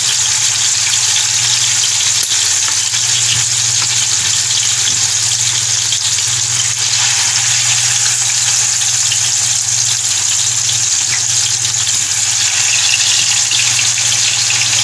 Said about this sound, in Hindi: इसमें अब मैं फ़िश डालूँगी। स्लो आंच पे रखेंगे हम लोग। ये हमारी फ़िश फ्राई होगी।